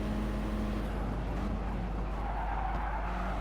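A race car in Gran Turismo Sport, tyres skidding and squealing as the car spins round, engine roaring steadily throughout with no talk.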